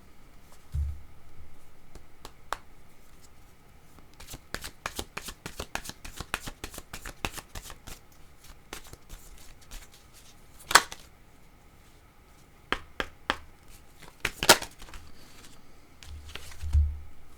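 Tarot or oracle cards being shuffled by hand, giving repeated crisp riffling and flicking bursts, some in quick runs and a few sharper slaps, close and fairly quiet with no talk.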